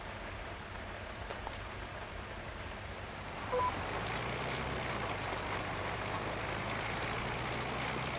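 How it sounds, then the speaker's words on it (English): Steady rain falls through the dark while a field is plowed, a dense wash of patter that holds through the whole stretch, joined partway in by a low, continuous rumble from the plowing machine. "Plowing in the dark in the rain."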